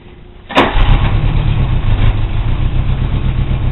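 A Suzuki Samurai gasoline engine cranks and catches abruptly, then settles into a loud, steady, close idle that runs on alone, sounding a little rough.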